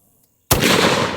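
A WWII Boys anti-tank rifle fires a single shot: after a near-silent pause comes an abrupt, very loud blast with a sustained roaring tail, close and alone.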